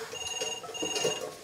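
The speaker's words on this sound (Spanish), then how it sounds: "¡Teléfono! ¡Teléfono! No tengo tiempo. Deja que suene." A telephone rings in a small guesthouse, its bright electronic trill repeating in two close bursts across the short stretch against a busy indoor background.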